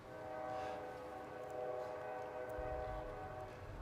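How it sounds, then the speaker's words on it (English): A distant train across the river sounds a long, steady horn over rumbling wagons, heard continuously outdoors during a Veterans Day ceremony in Miamisburg, Ohio. "I guess maybe that train's across the river."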